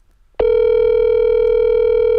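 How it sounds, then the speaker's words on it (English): A telephone line tone on a call begins abruptly after a short silence and holds as one loud, steady electronic tone, clean and alone with no voices. "You can hear it ringing."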